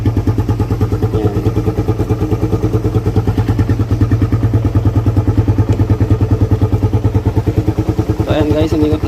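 A Suzuki Raider 150 motorcycle engine idles close by after a hard start, a rapid, even thumping beat that holds steady throughout.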